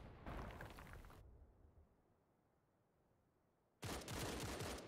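A grenade blast in a competitive online shooter match, with loud explosive bursts at the start and again near the end, a quieter stretch between.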